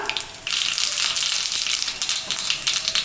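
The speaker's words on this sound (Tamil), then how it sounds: "எண்ணெய் காஞ்சிருச்சு கடுகு போட்டுக்கலாம்" Mustard seeds hit hot oil for tempering spinach and toor dal kadaiyal, bursting into a loud, steady crackling sizzle after a brief quieter start.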